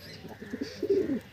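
Pigeons of a fine breeding line give soft, low, throaty coos close by, rising slightly in loudness toward the end of the short stretch.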